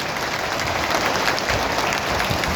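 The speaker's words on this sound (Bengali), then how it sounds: "ওনাদেরকে আমরা জোরে সোরে একটা করতালি দিয়ে অভিনন্দন জানাই" Audience applause at an Eid reunion gathering in Gazipur, a dense, steady wash of clapping from a crowd that runs evenly through the whole stretch with no talk over it.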